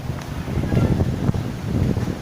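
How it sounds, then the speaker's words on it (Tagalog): Strong wind buffets the microphone over a steady, rough wash of sea water, with surging low rumbles and no voices. "Malakas ang alon ng tubig"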